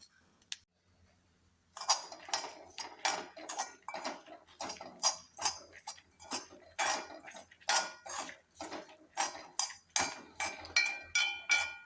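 Grated coconut roasts dry in a pan while a utensil stirs and scrapes it in a steady run of close, sharp metallic clinks and scratches after a brief quiet start.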